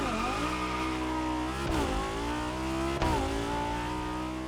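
A racing car from The Crew Motorfest roars with a loud, sustained engine and exhaust drone, the revs climbing steadily and dipping sharply twice as gears shift before rising again.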